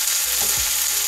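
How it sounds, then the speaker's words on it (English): Chopped okra sizzles and crackles steadily in a hot pan, a close, continuous frying hiss with a faint clunk partway through. "that sizzle is going to help take that sliminess out of the okra"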